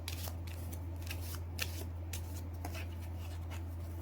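Lenormand cards being shuffled by hand, a soft close riffling and sliding with brief snaps, over a steady low hum and with no talk.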